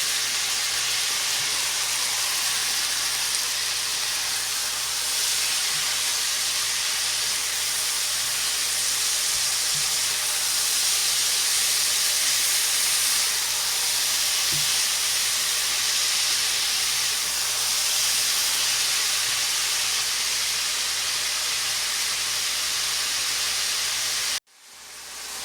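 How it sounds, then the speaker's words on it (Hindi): Chicken being stir fried for chicken fried rice sizzles and hisses loudly and steadily in a hot pan for the whole stretch, with faint stirring knocks and no talk, until it cuts off abruptly near the end. "चिकन डाल के अच्छी तरह से इसको मिक्स करके और स्टर फ्राई करेंगे।"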